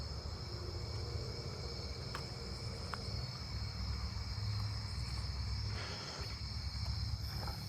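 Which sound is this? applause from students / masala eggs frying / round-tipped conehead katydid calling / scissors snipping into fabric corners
round-tipped conehead katydid calling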